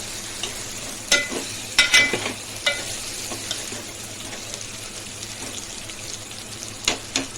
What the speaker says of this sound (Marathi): आता वांगी टाकूया। ते चांगले परतून घेऊया।